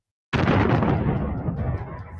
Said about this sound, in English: A retreating tank tried to escape. It too hit a mine. Another explosion.